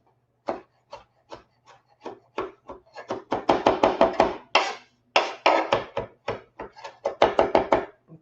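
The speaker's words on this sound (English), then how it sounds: "let's take this parsley and chop the living daylights out of it" A knife chops parsley on a wooden board, starting with sparse single strikes that speed into fast, dense, close rhythmic bursts of chopping.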